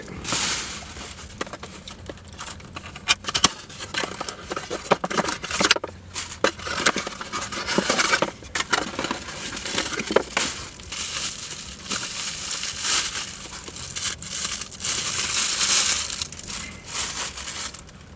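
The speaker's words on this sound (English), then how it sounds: "Let me start unboxing it." Packaging from a new camera lens crinkles and rustles up close as it is unboxed, giving continuous crackling, crumpling and handling noise with scattered sharp snaps throughout.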